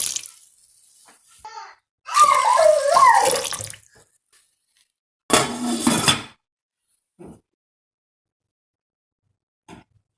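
Water poured into a bowl of washed urad dal for soaking, in two splashing bursts with quiet gaps and a few faint clinks, close and alone.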